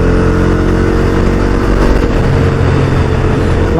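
A Bajaj Dominar 250 BS6 motorcycle from 2022 is ridden hard, its engine droning loud and close with shifting pitch and steady road rush, with no talking over it.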